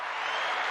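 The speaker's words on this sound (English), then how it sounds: "So he pressed it and he actually got a round of applause like that." Canned round of applause triggered by a button during a pinball tournament commentary, a brief dense burst of clapping at steady level, with no voices over it.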